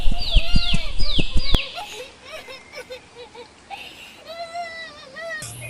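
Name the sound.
cartoon bird crying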